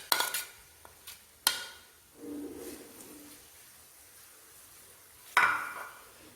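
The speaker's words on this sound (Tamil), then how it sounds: "இப்போ நம்ம அரைச்சி வச்ச இந்த கரிசலாங்கண்ணி பேஸ்ட்டை நம்ம உள்ளே சேர்த்துக்கலாம்" False daisy paste goes into heating oil in a pan and gets stirred, bringing metal spoon clinks and scrapes, a soft sizzle and hiss, then a sharp clatter near the end.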